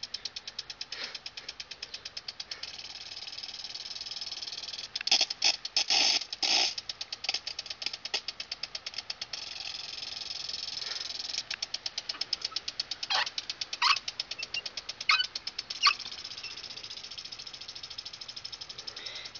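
Rain Bird Maxi-Paw impact sprinkler fitted with the medium blue nozzle, running steadily with a rapid ticking, rattling rhythm of the arm over a constant hiss of spraying water, several louder bursts of clatter, close and alone.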